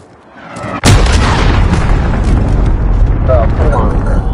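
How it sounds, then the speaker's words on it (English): A cruise missile explosion in the Call of Duty video game erupts suddenly after a quiet build-up, a massive close boom that settles into a sustained, loud roaring rumble. "Enemy cruise missile incoming."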